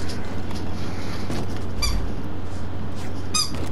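A dog's squeaky toy lets out two short, sharp squeaks a couple of seconds apart, heard over a steady low background hum from a game.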